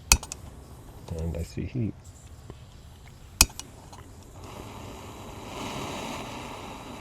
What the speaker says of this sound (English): I hear hissing now